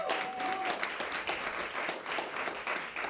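Steady, dense applause from an audience at a Typhoon Haiyan relief benefit performance, continuous and fairly close for the whole stretch without a break.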